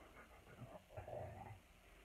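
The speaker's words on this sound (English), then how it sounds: "Did you hear my dog?" A pet dog pants and gives a low growl close to the microphone, a soft, short stretch of breathy, throaty sound at low volume in a quiet room.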